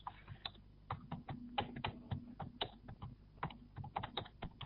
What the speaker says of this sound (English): we can hear someone typing potentially